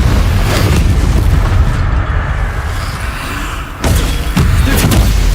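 Spell explosions during combat in the Hogwarts Legacy video game, loud booming blasts over a dense, continuous rumble, with a sharp burst near the middle and further bangs after it.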